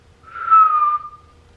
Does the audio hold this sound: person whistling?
yes